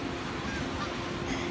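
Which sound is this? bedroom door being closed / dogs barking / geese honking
geese honking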